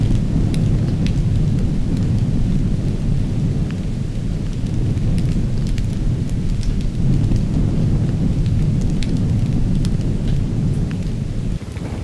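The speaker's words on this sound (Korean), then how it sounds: "그 귀한 비가 내리는 날" Heavy rain pours steadily in the dry Gobi of Central Asia, with rumbling thunder rolling beneath a continuous dense hiss and occasional sharper drops.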